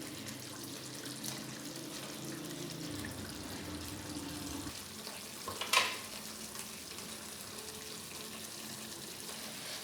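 Fish frying in oil within a curry gravy gives off a soft, steady sizzle and bubbling, with a brief louder clatter partway through, all fairly quiet and without voices.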